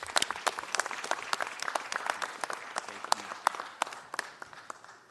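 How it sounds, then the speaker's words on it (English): An audience at a city council meeting applauds for several seconds, a steady patter of many hands clapping, fairly distant and reverberant. "Please give a round of applause to the founder of Pure Hearts Are Us, Aaron Leonard."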